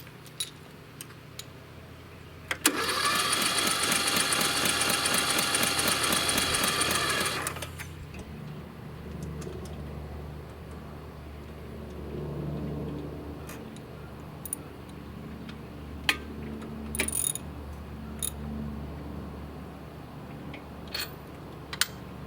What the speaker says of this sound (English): I'm going to spin the motor over several revolutions and get some oil bounced around inside it